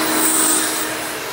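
A Hoover Elite 350 direct-air upright vacuum with an upgraded fan impeller runs loud and close with a steady, rushing airflow roar and a faint high whine, unbroken throughout, air leaking audibly.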